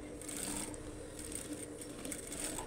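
A sewing machine stitches a trouser pocket, a faint, steady high-pitched whir with a light rapid ticking, running unbroken and alone at low volume.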